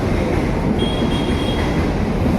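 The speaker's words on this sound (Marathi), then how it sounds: "तिकडे ट्रेन चाललेली आहेत" Trains run through a busy railway station, a loud, steady rumble of rolling wagons close by with a thin metallic squeal from the wheels, and no talk.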